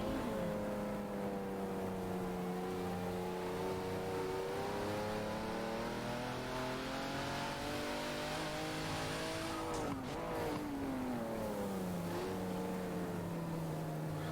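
A hypercar in a racing video game at a wet Silverstone, its engine note climbing and falling through gear changes, with loud steady revving, a sharp downshift near the middle, and tire hiss on the damp track throughout.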